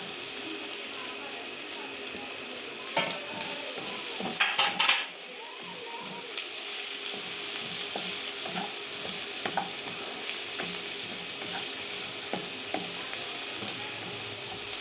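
Carrots and mixed vegetables stir-fry over high heat for chicken chow mein, a steady close sizzle running throughout with a few clinks of utensil against pan near the middle.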